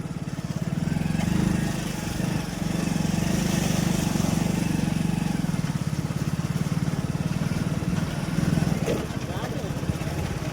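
Motorbike pushing through deep mud on a rain-soaked dirt track near Bhesasing in Dahod, a steady mid-pitched engine drone held close throughout, with someone talking over it.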